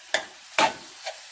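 A spoon stirs boiled, slightly firm sweet rice in a pan, producing three soft scraping strokes spaced about half a second apart, close and quiet.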